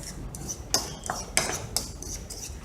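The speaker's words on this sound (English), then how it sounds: "Mix it in with a fork so that it mixes it, they blend together, both the powders." A metal fork scraping and clinking against a bowl while mixing baking soda and citric acid powders, a few light taps and scrapes at a soft, close level.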